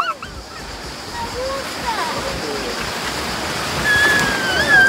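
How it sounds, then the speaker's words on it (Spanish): A waterfall at an amusement park gives a steady rush of falling water that grows louder toward the end, with a few faint distant voices mixed in. "Mira acá, hay una cascada."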